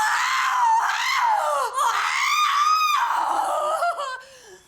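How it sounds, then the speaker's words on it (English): A woman lets out a long, loud horror-film scream that swells and wavers over several seconds, breaking into shrieking, laugh-like pitch swoops before fading at the end, with no other voices present. "I've been told I have the best scream in the business. Do you want to hear it?"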